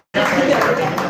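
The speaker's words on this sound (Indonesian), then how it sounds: "Tepuk tangan buat Bang Rizal Jalil." Audience applause for Bang Rizal Jalil at a book launch and talk event, a dense, steady burst of clapping that starts abruptly and carries on loud and close throughout.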